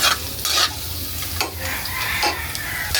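Garlic sizzles loudly in hot oil in a pan for Filipino pancit palabok, with a steady crackling fry broken by scraping bursts of stirring, close and continuous.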